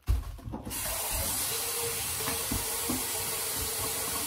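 Lettuce rinsed under a running kitchen tap, a soft, even hiss of flowing water with a few faint knocks and splashes, quiet and steady.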